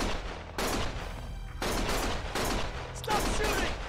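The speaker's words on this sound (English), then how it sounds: "Stop shooting!" Gunfire in bursts: several loud, dense volleys of rapid shots separated by short gaps, close and harsh, with no talking.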